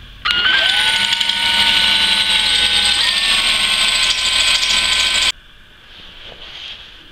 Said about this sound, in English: I'm going to try and drill through that hole